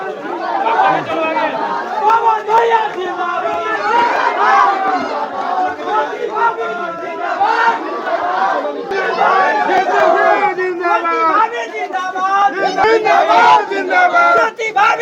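A large rally crowd chatters and chants steadily throughout, a dense roar of many voices with shouted slogans rising and falling, loud and close.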